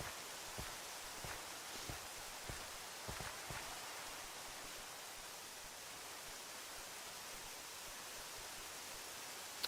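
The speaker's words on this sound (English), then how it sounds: "And it's raining. Look at that." Soft, even hiss of rainfall in Minecraft that continues throughout, with a few faint clicks near the start and no voices.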